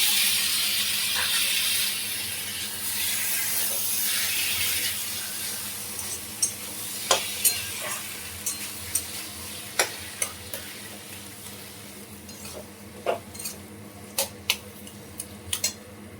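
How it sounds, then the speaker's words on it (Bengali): Bottle gourd sizzling in hot spiced oil for an Indian curry, with a continuous frying hiss and scattered clinks and scrapes of a utensil stirring against the pot. "মশলার তেল ছেড়ে দিয়েছে, এবার আমি লাউটা দিই।"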